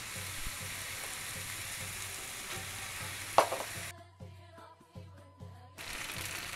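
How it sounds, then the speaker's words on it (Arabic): Chicken sautéing with spices and other ingredients in a pan for a filling, a steady close sizzle and stir with one sharp clink, then a quieter stretch of soft scrapes before the frying hiss returns. "شحر معايا الدجاج شويه، دابا نضيفوا العطريه، نضيفوا المكونات كلها بحضرتها."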